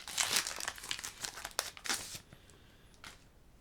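Foil Pokémon booster pack crinkling and tearing open up close, a run of crisp rustling and ripping bursts that fades into quieter handling noise.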